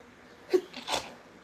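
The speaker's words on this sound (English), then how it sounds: "Bless you." A single quiet sneeze, a sharp breathy burst with a short intake before it, fairly close and otherwise nearly silent.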